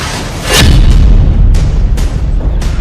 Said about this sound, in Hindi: अरब का आसमान मिसाइलों के शोर से भर गया है।